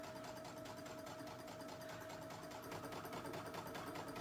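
A sewing machine stitching across a fabric hem, running at a steady rapid rhythmic whir with a faint motor hum, close and continuous with no talking.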